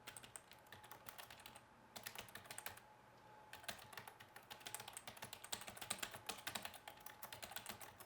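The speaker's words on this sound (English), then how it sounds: "just can't type and talk at the same time" Rapid, uneven clatter of computer keyboard typing, quiet and close, in bursts with brief pauses between runs of keystrokes, no voices.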